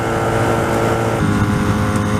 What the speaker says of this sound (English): I don't know what the exhaust sounds like on video, but it's definitely louder than my sport bike